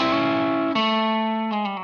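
Electric guitar plays a blues solo kickoff lick, sustained bent notes sliding into a hammered-on double stop that rings out, bright and effected, alone and close.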